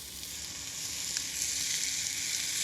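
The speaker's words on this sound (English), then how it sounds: "put the meat in, wait for the sizzle" Steady, close sizzling of meat searing in a hot casserole pan, a continuous crackling hiss with no voices.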